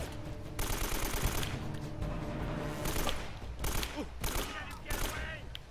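Enemy gunfire in the video game Uncharted: Drake's Fortune, repeated bursts of rapid automatic shots and a sustained fusillade, fairly faint and broken by brief pauses, with scattered impacts between volleys.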